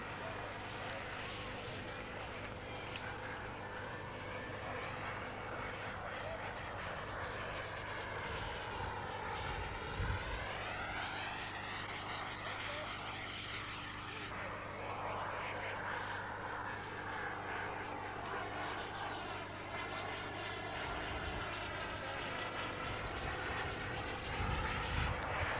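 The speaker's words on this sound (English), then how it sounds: "The leading gas turbine engine that's available commercially." JPX T240 gas turbine engine on a model jet aircraft at a model jet competition, a steady high whine and roar with a rising and falling sweep in pitch, heard under a voice speaking over it throughout.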